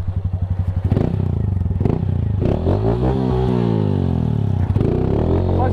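A Honda Titan 160 motorcycle chugs and revs loudly up close on an off-road dirt trail, the engine pulsing, then climbing in pitch as it accelerates, with knocks and clatter from the rough ground.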